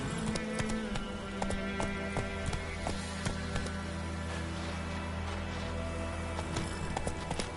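Roach, a horse in The Witcher 3, gallops with steady, close clip-clop hoofbeats over a dense, continuous game soundscape with low droning music.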